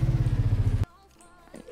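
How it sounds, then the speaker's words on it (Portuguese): A weak car engine in the Minecraft game chugs with a rapid pulsing rev for under a second, then cuts off abruptly, leaving faint clicks and quiet game noise. "Lembrando que eu tô com o motor mais fraco que tem, viu?"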